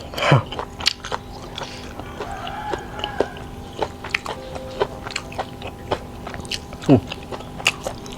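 Grilled pork intestines eaten with sour, spicy jaew dipping sauce, giving close, scattered biting and chewing crunches with short pauses between, set against faint background noise and a brief rooster-like call, with no talk.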